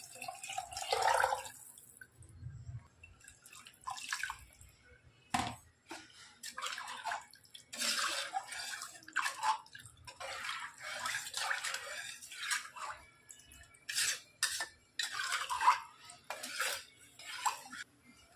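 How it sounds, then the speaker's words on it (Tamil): Dissolved tamarind water is poured into a cooking pan in a home kitchen, giving quiet, intermittent splashes and trickles mixed with soft clinks of utensils and vessels against metal. "எலுமிச்சம்பழம் சைஸு புளி கரைச்சி ஒன்றா வச்சுருக்கேன். இது அப்படியே ஊற்றிடலாம்"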